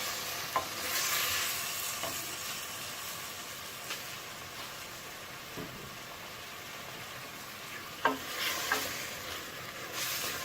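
Pieces of beef tongue frying in a pan, a steady soft sizzle with occasional clicks and scrapes of stirring, fairly quiet throughout.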